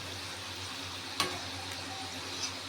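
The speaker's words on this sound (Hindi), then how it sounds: "इसलिए बहुत धीरे धीरे आंच पर इसको फ्राई करना है" A stuffed snack frying slowly in oil over a low flame, with a soft continuous sizzle close by and a single light clink of a utensil near the middle.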